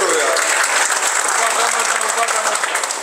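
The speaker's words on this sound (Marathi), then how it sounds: "एकदा सगळ्यांनी जोरदार टाळ्या वाजवून त्यांचं स्वागत करूया." An audience at a political party event in Solapur applauds to welcome new members joining the party, a dense, loud, sustained burst of clapping from a crowd filling the whole stretch.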